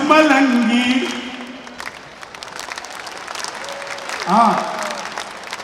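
Audience clapping at a Hindi poetry recital, a crowd applause swelling around a singing performer's voice, then fading as he keeps chanting and a brief cheer rises near the end.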